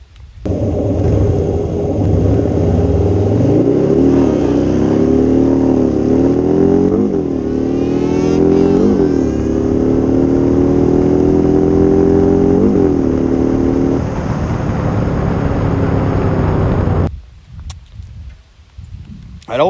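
A 2020 Harley-Davidson Fat Bob motorcycle races, its engine loud and close, revving up through rising gear pulls before cutting off abruptly into quiet.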